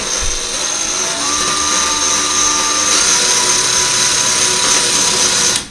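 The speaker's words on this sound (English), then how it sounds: "now we're going to drill that one right there very, very slowly" A power drill with a 3/16 bit bores slowly into tile, making a loud steady whine that holds for several seconds close up and then stops abruptly.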